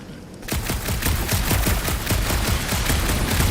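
Rapid gunfire from the video game Guardians of the Galaxy begins after a short quiet lead-in, then continues as a loud, dense, steady burst of shots to the end.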